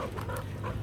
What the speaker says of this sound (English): Always chaos with the dogs.